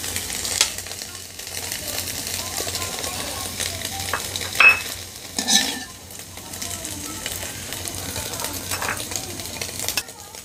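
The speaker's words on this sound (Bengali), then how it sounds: "ডিমটা খুব ভালো করে ফ্রাই করা হয় এবং ডিমটা যাতে ঝুরিও হয়" Scrambled egg sizzles and fries in a pan while a utensil stirs and scrapes it, with steady hiss and scattered clinks of metal on the pan throughout.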